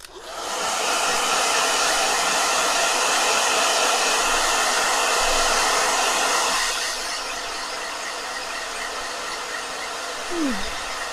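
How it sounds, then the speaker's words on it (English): A hair blow dryer runs steadily and loudly as a continuous broadband whoosh, dropping slightly in level near the end. "Blow dryer."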